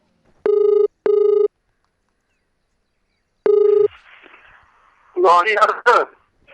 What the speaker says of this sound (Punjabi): ਐਸਆਈ ਨੂੰ ਫੋਨ ਕਰਨ ਲੱਗੇ ਆ